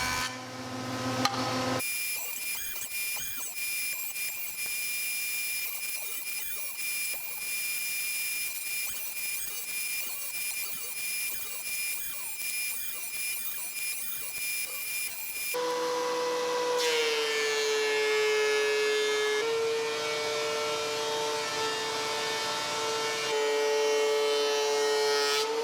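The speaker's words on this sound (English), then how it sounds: "I planed the wood down to 1 3/4 inch thickness." Planer feeding lumber for patio lounge chairs, a steady broadband machine roar that runs continuously and shifts to a louder, brighter pitch partway through, with no voices.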